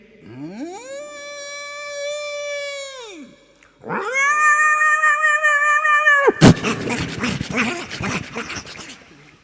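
A voice imitates cats: two long, rising-and-falling meows, then a harsh screeching yowl breaking into scuffling caterwauling like a cat fight.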